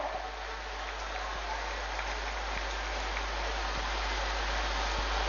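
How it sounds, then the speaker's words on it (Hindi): A crowd applauds steadily and densely at an outdoor government ceremony laying the foundation stone of a degree college in Chaibasa. The clapping is a continuous wash of hands at moderate distance with no pauses. "तालियां भी आपकी ओर से हो"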